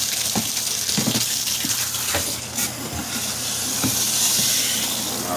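Water runs steadily with a hissing rush while rinsing out a portable mini twin tub washer, broken by a few light knocks and splashes against the plastic tub.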